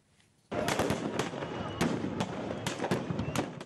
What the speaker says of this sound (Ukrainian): Чоловіки в різних військових строях стріляють із різних видів зброї у різних ворогів.